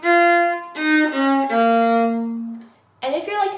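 Viola playing the rhythm of a song: a short sequence of bowed notes, sustained and stepping downward, ending with a brief scratchy flourish, clear and close with no talking.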